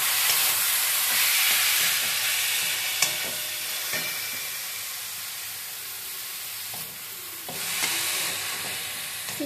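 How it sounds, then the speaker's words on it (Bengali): Beetroot and capsicum fry in a pan with a loud, continuous hissing sizzle close by. Occasional stirring knocks and scrapes break through the steady hiss, and no voices are heard. "বা বেশ কিছুটা বিট আমি কুড়িয়ে রেখেছিলাম, এই বিটটা আমি অ্যাড করে দিয়ে ফ্রাই করব"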